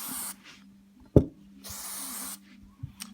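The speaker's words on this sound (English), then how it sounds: "I like to spray this Remington cleaning solution in oil" Remington cleaning solution and oil sprayed from a can with a straw onto an SCCY CPX-2 pistol slide, two longer hissing bursts with a sharp tap between, close and clear.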